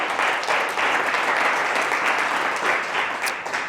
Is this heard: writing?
no